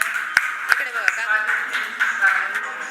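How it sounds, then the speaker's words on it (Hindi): Audience at a Rajyoga meditation program for special children giving a guest a few sharp, isolated hand claps, spaced irregularly, while a voice talks alongside. "उनके लिए जोरदार तालियां।"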